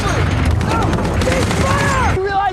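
Dense automatic gunfire and rapid bursts crackle through a war scene from the TV series Generation Kill, with voices shouting over the continuous shooting.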